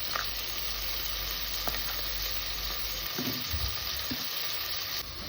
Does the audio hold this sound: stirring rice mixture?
yes